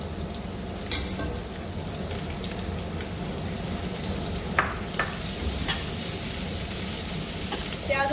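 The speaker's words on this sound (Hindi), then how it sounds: "ऑयल गर्म हो गया है, इसमें प्याज शामिल कर देंगे।" Onions frying in hot oil for chicken spaghetti, a dense steady sizzle close up with occasional light stirring scrapes and clinks, continuous with no talking.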